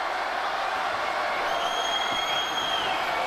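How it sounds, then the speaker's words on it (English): A packed wrestling arena crowd roars, cheers and applauds for the wrestler War Machine in one dense, unbroken wall of noise with no pauses. "And listen to this crowd."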